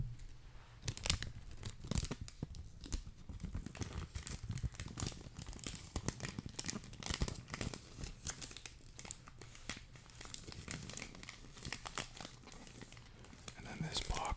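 Plastic wrap peeled off a Club De Nuit Intense Limited Edition cologne box gives close, quiet crinkling and tearing, while a soft whispering voice talks throughout.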